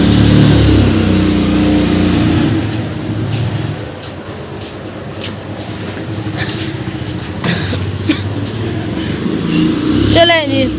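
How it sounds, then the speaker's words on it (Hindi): Loud car engine idling and pulling out of a home driveway, a low steady drone that swells near the end, with people talking over it. "पापा जी गाड़ी बाहर निकालने लगे हैं"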